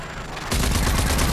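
A turret opens fire in the video game Rage 2, going from quiet to a loud, rapid string of regular shots that hammers on to the end.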